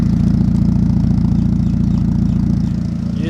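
A car engine idling with a newly fitted exhaust, a loud, close, steady low rumble with an even pulsing beat throughout and no speech.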